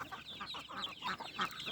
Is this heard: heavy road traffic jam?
no